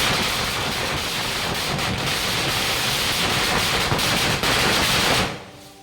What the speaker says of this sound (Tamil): 1000 வாலா இது வெடிக்கலாம்னு எடுத்துகிட்டு வந்தோம்.